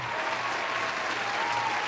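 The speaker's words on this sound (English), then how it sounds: "Stop clapping it, I'll tell you." Steady applause from a small group during a podcast, dense continuous hand clapping at an even level throughout with no break.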